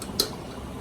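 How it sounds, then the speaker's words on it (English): A single brief metallic clink as a lid is set onto a pot of simmering linguine with clams, close and quick against a quiet low background. "I'm going to throw a lid on it"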